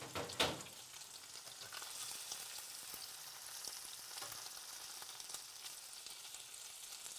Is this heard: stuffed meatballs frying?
yes